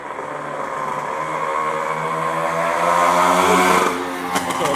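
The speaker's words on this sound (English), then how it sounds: "You gotta legalize those mopeds." A loud moped engine passing on a street in Avignon, France, a steady buzzing drone that swells as it draws near and then fades, heard alone with no talking.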